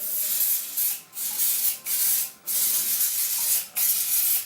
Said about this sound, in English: We'll ensure the pump is well lubricated and dry using a silicone spray.